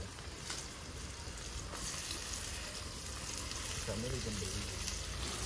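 Steady sizzling of chicken frying in a pan with onion and tomato, a constant crackle with some stirring, a voice faintly present beneath.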